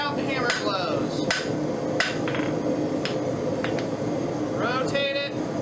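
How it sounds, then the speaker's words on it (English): Sharp metallic hammer blows ring out at an uneven pace as a copper rose is forged, steady workshop hum underneath and brief talk between strikes. "Work progressively with good stout hammer blows."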